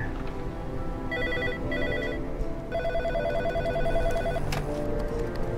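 A telephone in a mystery adventure video game rings in repeated electronic trilling bursts with short pauses, loud over a dense, steady background of game ambience.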